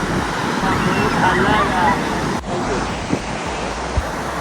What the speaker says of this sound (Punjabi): ਚੈੱਕ ਕਰੋ ਸਮੁੰਦਰ ਦੀ ਵਾਈਬ